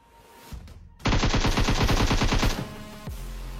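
A rapid automatic gunfire burst rings out in a battle royale video game, loud and close for about a second and a half, then cuts off, leaving a low steady game background.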